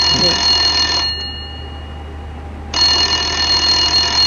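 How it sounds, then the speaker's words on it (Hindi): A loud electronic telephone ring sounds in two long bursts with a short pause between them, close and steady. "फिर फोन आ गया"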